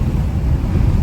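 Strong wind buffets the microphone in a continuous, loud low roar while a 1954 Chevy is driven on an expressway.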